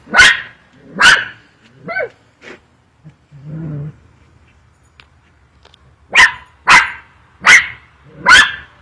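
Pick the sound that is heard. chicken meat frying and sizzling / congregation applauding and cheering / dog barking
dog barking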